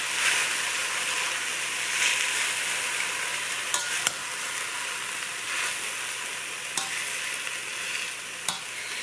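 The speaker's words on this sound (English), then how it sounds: "we put it on medium, and we're just going to give them a good little crush" Wild saskatoon berries being mashed with a pie blender in a pot over medium heat, with a steady wet sizzle and a few brief scraping clicks of the metal against the pot throughout.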